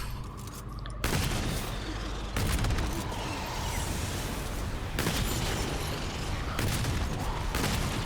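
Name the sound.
gunfire and explosions in Remnant II video game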